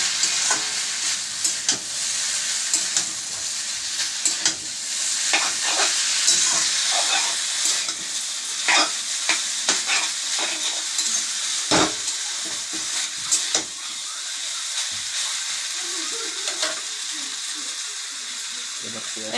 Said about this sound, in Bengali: সুন্দর করে এইভাবে আমি ভেজে নিচ্ছি চাউমিনটা